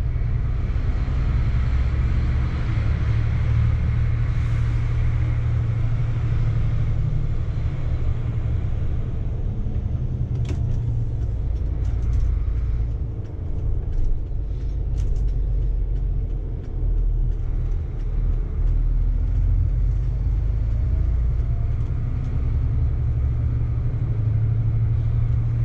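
A Bova Futura FHD coach drives and climbs a slope in second gear, its engine giving a loud, steady low rumble and drone from inside the vehicle, with a few faint clicks and rattles and no voices.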